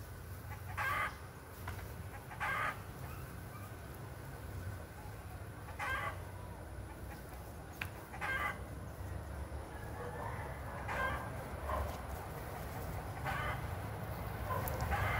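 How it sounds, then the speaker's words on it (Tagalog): A hen clucks loudly after laying an egg, in repeated bursts every second or two against a noisy outdoor farmyard background. "Ang lakas ng tunog no. Tunog ng manok na nangingitlog."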